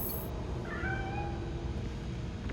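A cat meows once, briefly and fairly faintly, in the video game Gotham Knights, with a steady low ambient hum running underneath and no speech.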